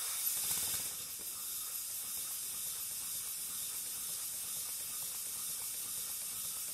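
A model Pennsylvania A3 switcher steam engine running on pressure, giving a steady, even hiss of escaping steam that starts slightly louder and then holds constant at moderate level, with no voices.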